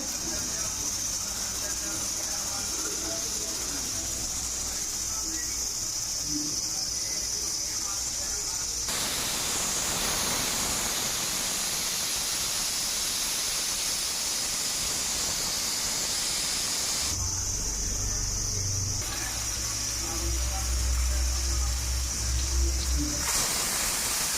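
A pressure cooker of goat trotters on a gas stove hisses steam steadily, and the sound swells into a louder, sharper whistling burst partway through before it settles back to a hiss; someone speaks at times.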